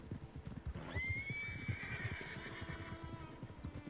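Horses in a video game gallop with steady clip-clopping hooves, and one lets out a loud, rising whinny that rings out near the start and trails off over the running beat.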